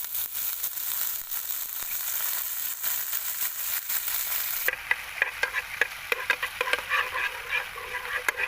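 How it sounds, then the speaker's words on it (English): Insects frying in a pan make a steady sizzle, joined midway by a series of quick scraping, stirring clatters. "First we fry it and then we mix ingredients"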